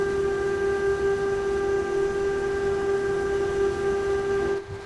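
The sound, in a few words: BR185.5 electric locomotive running, Train Sim World 5 video game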